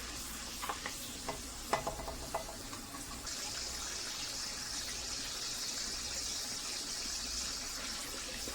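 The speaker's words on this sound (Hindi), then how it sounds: "तो थोड़ा सा हम भून लेते हैं ऑयल में।" Onions and spice paste sizzling in hot oil in a pan while a goat liver dish is being cooked, a steady soft fry with a few stirring clinks near the start and no talking.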